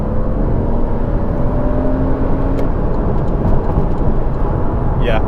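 A 2016 Porsche Boxster S with a 3.4-litre engine pulls hard at full throttle in standard mode while overtaking, a loud, steady low engine roar with rushing wind noise, heard from inside the car.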